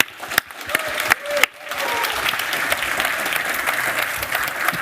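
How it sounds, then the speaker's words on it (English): Several sharp, isolated claps lead into a full round of applause from a conference audience at a live tech event, building to a steady, dense patter that carries on to the end. "Let's give a round of applause for Per and Shannon"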